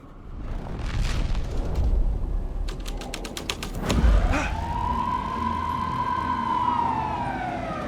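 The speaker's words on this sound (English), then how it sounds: "Police car?" A police car siren wails in the Alan Wake 2 video game, loud and close, rising and falling through several cycles alongside mechanical creaks and clatter, with no voices.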